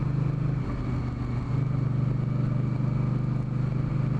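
An Indian Scout Bobber motorcycle rumbles along broken roads, its engine droning in a steady low hum with slight wavering, close and continuous without any talk.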